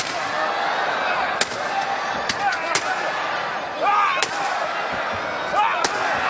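Chairs strike repeatedly between wrestlers in a bloody NOAH professional wrestling match: about five sharp, loud cracks at irregular intervals over a constant roar of arena crowd noise.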